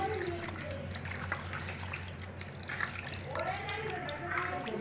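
Water runs and splashes as pieces of mutton are rinsed by hand for a garlic mutton recipe, a steady trickle and slosh with a voice speaking over it.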